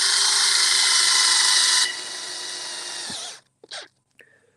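A Dewalt cordless drill runs at a steady high-pitched whine outdoors on a farm during fencing work, loud and close, slowing and stopping after about three seconds, followed by a few short clicks.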